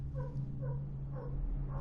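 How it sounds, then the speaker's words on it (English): Guard dogs in the stealth game Dishonored bark in a measured series of about four yips near Dunwall Tower, fairly faint over a constant low ambient hum. "Well, the dogs have activated again."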